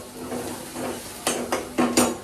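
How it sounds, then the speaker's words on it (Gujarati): Onion sautéing in a pan makes a soft sizzle, and a spoon scrapes and knocks against the pan four times in quick succession near the end, close and clear. "પછી ઓનિયનને થોડીક સાંતળવાની"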